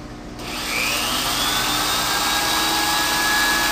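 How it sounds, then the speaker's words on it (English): An induction heating machine powers on to heat a part spinning inside its coil for induction hardening, a loud steady whine and hum that ramps up within the first second and then holds. "The induction heating power is going on now."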